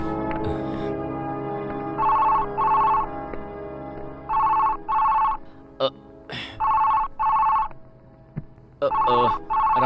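A telephone bell rings indoors in a Hindi action film scene, sounding in paired bursts repeated about four times. Soft clunks and thumps fall in the short gaps between rings.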